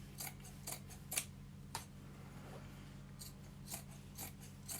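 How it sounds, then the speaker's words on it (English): Scissors trim excess fabric off a Roman blind, producing a handful of crisp close snips spaced irregularly over a low steady hum, with no talk. "quite a lot of excess fabric, which we'll trim off now because that's the seam"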